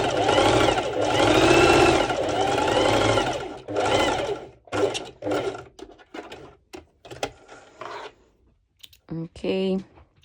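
Sewing machine running a straight stitch on bikini fabric, a loud close whirring burst for several seconds, then short stop-start runs and clicks with a voice speaking between them.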